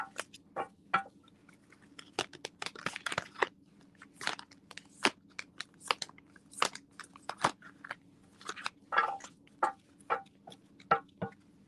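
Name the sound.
shuffling tarot cards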